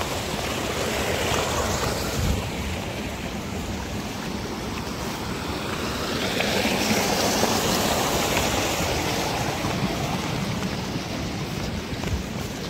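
River water rushes steadily near a hydropower site on the Tardi Khola, a loud, continuous broadband roar with some wind buffeting the microphone and no voices.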